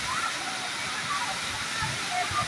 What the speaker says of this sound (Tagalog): amazing na falls dito sa Laguna